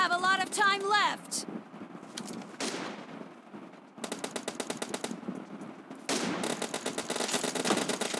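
An M249 light machine gun fires in PUBG Mobile, with several long, rapid bursts of automatic shots and a brief voice and other game noises at the start.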